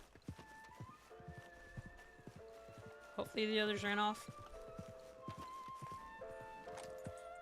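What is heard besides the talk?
horse sounds in video game Red Dead Online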